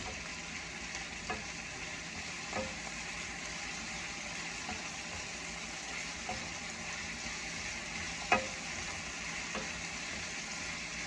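Thai cashew chicken cooks in a pan with a soft, steady sizzle, broken by a few faint ticks and one sharper clack.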